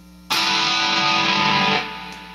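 A single bright strum of open strings on a distorted 1966 Rickenbacker 335 electric guitar rings out loudly for over a second, then decays.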